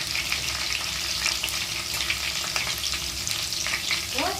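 Crushed garlic fries in a pan for prawn masala, a close, steady sizzle with crackling pops and light stirring scrapes throughout.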